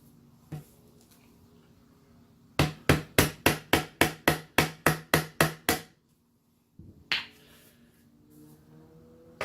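A rapid run of about a dozen sharp, evenly spaced hammer blows driving a rod for a homemade fishing rod holder rings out close by, followed after a pause by one more strike.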